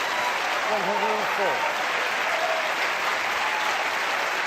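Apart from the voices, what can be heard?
crowd applauding a century break at snooker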